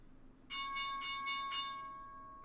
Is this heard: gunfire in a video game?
no